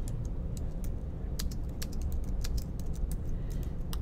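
Steady computer keyboard typing in Processing programming work, rapid continuous key clicks close up over a constant low background hum, with no voices.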